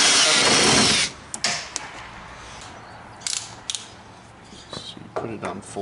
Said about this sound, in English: So you put it on full drill.